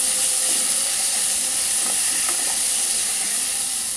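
Salted vegetables for Bengali shukto sizzle and hiss steadily in a pan while being stirred, a continuous close, even frying sound with faint scraping, and no talking.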